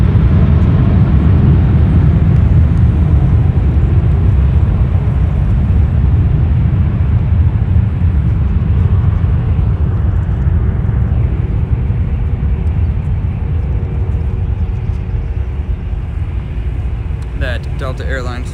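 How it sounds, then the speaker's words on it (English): United Boeing 787-10 Dreamliner taking off at Los Angeles International Airport, a loud, sustained broadband engine roar that fades slightly as it recedes, with a voice talking over it. "That was a 787-10 Dreamliner taking"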